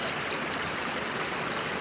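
The River Walkham on Dartmoor rushing steadily over rocks at a water crossing, a constant broadband hiss of a flowing stream, close and moderately loud, with no voices.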